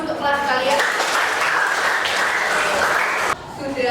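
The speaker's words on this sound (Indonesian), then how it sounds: "berikan tepuk tangan dulu untuk kelas kalian" Classroom of pupils clapping together for their own class, a dense steady patter of many hands lasting about three seconds before stopping abruptly, with voices audible before and after.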